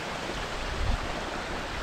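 Dainthlen waterfall in Cherrapunji, Meghalaya, running low, gives a steady broadband roar of falling water, even and continuous with no voices.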